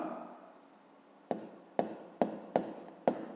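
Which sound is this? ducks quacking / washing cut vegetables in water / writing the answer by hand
writing the answer by hand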